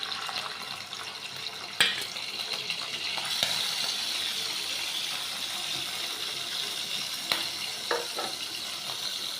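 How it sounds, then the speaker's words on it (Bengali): Shrimp fry in hot oil on a tawa, giving a steady close sizzle with a few sharp pops and clatters and a faint hiss of bubbling underneath. "এই যে চিংড়ি মাছটা ভাইজে নিমু"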